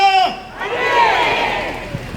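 A crowd at Daegu's Cheonggwa traditional market shouts a fighting cheer together, a brief loud burst of massed voices right after a lead caller's voice.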